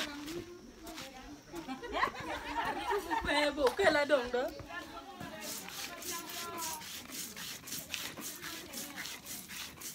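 Shea nuts are ground by hand in a hut in Agago, giving a rough rhythmic rubbing and grinding, with people chattering and laughing nearby over much of it.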